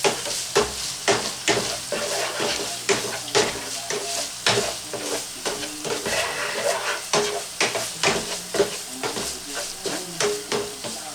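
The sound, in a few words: stirring sizzling meat in pan for lasagna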